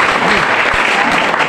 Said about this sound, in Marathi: टाळ्या वाजवायच्या त्या खेळाडूंसाठी.